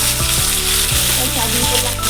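Ripe tomatoes hit hot oil with panch phoron in a pan, giving a loud, steady sizzle and spatter with a few stirring scrapes, close up and without talk.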